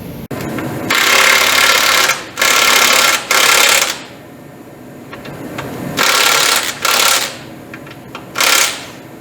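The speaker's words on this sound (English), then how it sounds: "So let me grind these bolts down until they fit in the holes." An angle grinder cutting bolts down to fit their holes, heard in six loud, close bursts of a second or less between short quiet gaps.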